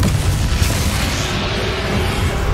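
A Confringo fire spell explodes in the Hogwarts Legacy video game, giving a dense, loud rumbling blast that fills the whole moment with sustained low boom and crackle and no talking.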